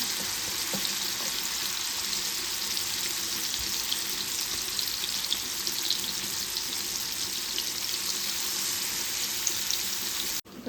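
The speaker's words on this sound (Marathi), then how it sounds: "आणि गॅसचा फ्लेम स्लो करायचा आहे स्लो फ्लेमवरच फ्राय करून घेणार आहे" Jitada fish from brackish water fries in a pan over a slow gas flame, a steady, dense sizzle running close and fairly loud and unbroken until an abrupt stop at the very end.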